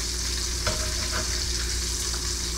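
Great Value hickory smoked bacon frying in a pan gives a steady, close sizzle and crackle that stays even from start to finish, with no voices.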